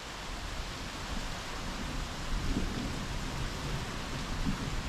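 Steady heavy rain from a Pensacola, Florida thunderstorm hisses continuously, with low rumbles of thunder swelling underneath, nearby and without voices.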